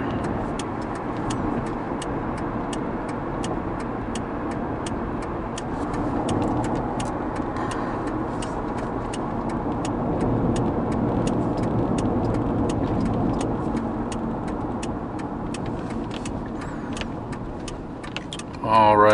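A Ford Crown Victoria drives onto a freeway on-ramp, its engine and road noise rumbling steadily under a rapid ticking turn signal, with a swell in engine sound midway.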